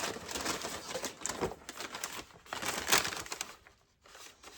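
Close, continuous crinkling and rustling of thin plastic, with irregular louder crackles as the bag is handled and shifted.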